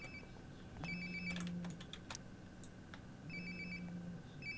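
A phone rings nearby in the game Life is Strange: Before the Storm, two bursts of electronic ringing separated by a pause, with faint clicks and small noises around it.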